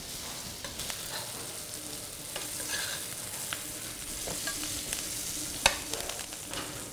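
Venison loin fries in butter in a pan with a continuous close sizzle and crackle, with occasional faint scrapes and one sharp tick near the end. Nobody speaks.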